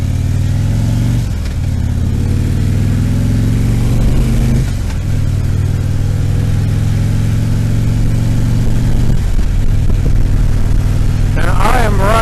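A motorcycle or vehicle engine rumbles steadily and close throughout a ride home from work, with a couple of brief throttle dips and revs and someone talking over it, plus a short squeal near the end.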